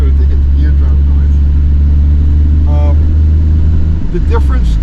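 Hot rod fitted with a gear drive accelerating hard, a steady loud engine roar with a high gear whistle riding over it, while someone talks over the noise.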